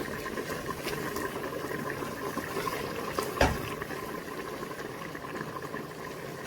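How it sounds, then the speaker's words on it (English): Tinned tomatoes frying in a pan with spaghetti sauce base, giving a steady close bubbling sizzle throughout, with one brief louder knock midway and no talking. "I've added a couple of tin tomatoes to it, and I'm going to allow it to fry some more."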